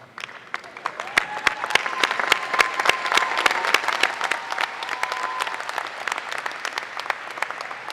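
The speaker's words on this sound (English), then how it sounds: "give those who supported you a big round of applause" Graduation audience at a college advanced degree ceremony applauding steadily, a dense wash of many hands clapping that swells and then holds, with a faint sustained tone running under it.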